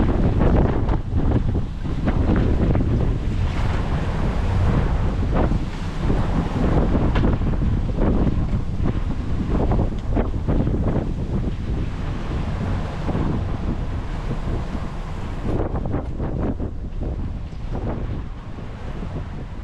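A sailboat far out on the Atlantic during a stormy solo crossing, with constant roaring wind buffeting the microphone and heavy waves surging and crashing around the hull, loud and unbroken throughout.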